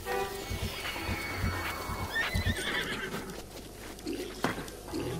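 Horse in Zelda Breath of the Wild neighs loudly and whinnies, mixed with clip-clop hooves, game music and action sounds in a busy short burst.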